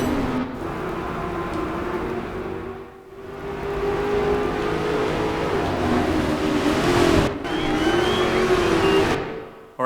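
A Honda NSX in the racing game Project Gotham Racing 4, its engine droning loud and steady, rising and dipping through gear changes and throttle lifts, with brief drops in between.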